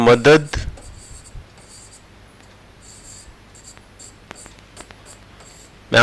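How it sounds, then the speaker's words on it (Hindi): Chalk or marker strokes on a board make faint scratchy squeaks in short bursts, with someone speaking briefly at the start and the end of the clip. "मैं आई लिख रहा हूं यहां पे"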